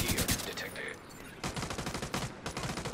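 An SMG in The Division 2 fires rapid bursts of automatic gunfire, loud and close, with a brief lull in the middle before more bursts resume, mixed with game effects.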